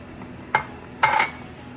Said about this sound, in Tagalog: dapat tuloy-tuloy ang paghalo mo kasi susunog